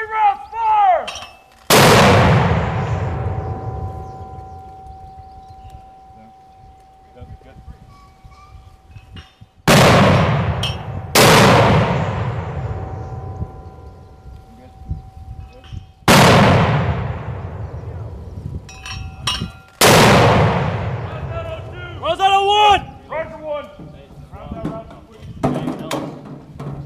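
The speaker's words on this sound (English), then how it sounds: "Section 3 rounds fire." Fuji Viper mortar rounds fire on a range, four loud, sharp booms spaced several seconds apart, each trailing off in a long rumbling echo, with shouted commands between them.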